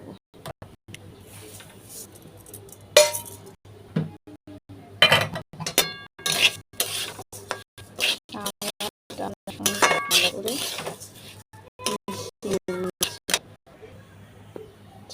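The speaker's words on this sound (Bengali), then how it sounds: "চাল আর ডাল একসঙ্গে ভালো করে ভাজা হয়ে গেছে" Rice and lentils are stirred while frying in ghee in a pot for a simple vegetarian khichuri, with sharp metal spoon clinks and scrapes against the pot in irregular bursts and only a faint sizzle beneath.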